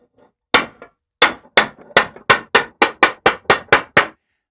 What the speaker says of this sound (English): The center punch I'm using is a Starrett 48-B. This thing is a beast for making marks in metal.